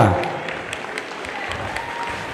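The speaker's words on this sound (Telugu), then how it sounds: "చిన్నారులని గట్టిగా మీ చప్పట్లతో ఆశీర్వదించవలసిందిగా" Steady crowd clapping at a Teachers' Day event fills the stretch, a dense patter of many hands at moderate level, with a voice heard briefly at the very start.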